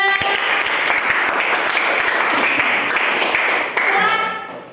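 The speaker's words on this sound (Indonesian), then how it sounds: "Berikan tepuk tangan untuk kelompok 2." Students in a classroom clap for group 2 after their discussion presentation, a close, fairly loud round of mixed handclaps that carries on for several seconds before tapering off.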